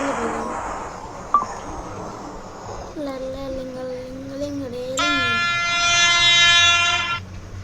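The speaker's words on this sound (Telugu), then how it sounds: "మన ట్రైన్ వస్తుంది" Train pulling into a station in a video game, a steady rumble with a rising tonal whine, then a bright multi-tone horn blast held for about two seconds near the end; voices talk around it.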